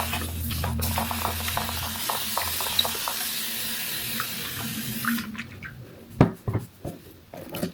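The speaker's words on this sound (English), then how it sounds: "I'm gonna spray everything with water and then detangle." Water sprayed onto hair from a spray bottle before detangling, in sections with conditioner; a steady hissing spray runs for about five seconds, then gives way to a few rustling, handling sounds.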